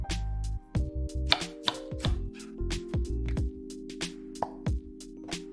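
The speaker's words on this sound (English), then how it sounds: "chop the scallions" Rapid knife chops on a cutting board as scallions are cut, a quick irregular series of crisp taps close by, with a low hum underneath.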